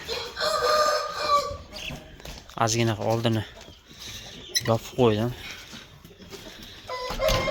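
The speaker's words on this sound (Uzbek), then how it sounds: "Bu oq Koreya xo'rozi ham tanasi." White Korean rooster and turkey hens in a backyard flock give loud, close calls and clucks: a drawn-out crow-like call, then repeated throaty squawks, while someone speaks between them.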